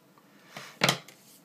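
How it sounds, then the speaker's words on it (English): Scissors cut a strip of folded elastic fabric diagonally for a homemade hair tie, making a single short, close snip after a soft rustle of handling. "So I'm actually going to fold it over and cut it at a diagonal."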